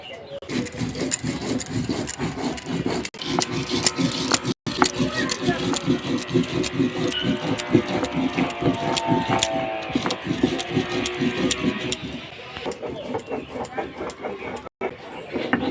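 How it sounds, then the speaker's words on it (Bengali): Cumin seeds ground by hand on a grinding stone, a continuous gritty scraping with rapid rhythmic strokes close by, broken by a couple of brief pauses, with someone talking over it. "এবারে জিরেটা বেটে নেব।"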